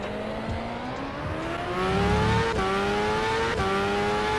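Open-wheel race cars from the Superleague Formula video game roar with engine pitch climbing steadily through the gears, a couple of sharp shift drops, and tire noise underneath, loud and continuous with no talk.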